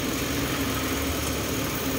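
A Mitsubishi Mirage engine idles while its CVT fluid circulates, a steady, unbroken mechanical hum with a constant low drone and no change in pitch.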